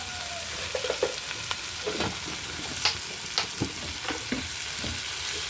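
Chicken masala is sautéed in a pan, with a steady sizzle and repeated scraping clinks of a spoon stirring, close and moderately loud, no talking.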